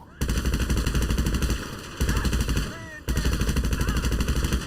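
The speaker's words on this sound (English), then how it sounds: "No, she didn't just shoot at me." Sustained bursts of automatic gunfire in GTA 5 Online, loud and close, rattling in three long rapid volleys separated by brief gaps, with faint game sounds underneath.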